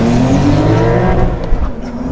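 Porsche 911 Carrera T flat-six revving up to about 3,500 RPM while stationary, a loud, close, rising engine roar with a sharp exhaust edge.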